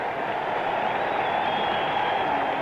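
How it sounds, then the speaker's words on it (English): A baseball crowd at the All-Star Game roars and applauds for Mickey Mantle, a steady, distant wall of clapping and crowd noise with no break. "Listen to the applause."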